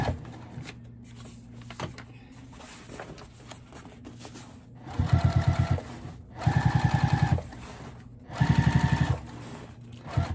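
A sewing machine stitches a car trash bag in three loud, rapid bursts of mechanical chatter separated by short pauses, preceded by quieter handling and rustling of fabric.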